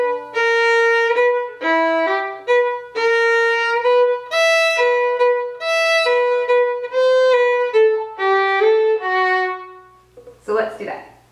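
A solo fiddle plays a phrase of a tune in close, clear bowed notes in a lilting triple rhythm, ending with a brief rustle.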